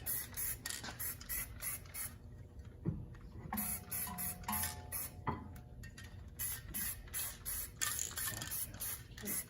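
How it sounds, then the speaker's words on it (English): Short bursts of aerosol spray paint hiss repeatedly onto an Acura TSX/Honda Accord brake caliper, quick pulsing sprays in a rhythmic pattern with a brief pause midway, close to the listener. "We'll spray the caliper too."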